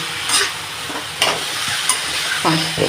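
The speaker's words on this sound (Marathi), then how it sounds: "फास्ट गॅसवरच हे स्टफिंग बनवायचं" Vegetable momo stuffing is stir-fried over a high gas flame, with a steady sizzle, scraping stirs and occasional clinks from the pan.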